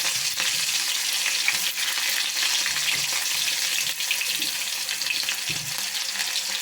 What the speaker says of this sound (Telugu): ఆయిల్ వేడెక్కాక అందులో ఆనియన్స్ వేసుకోవాలి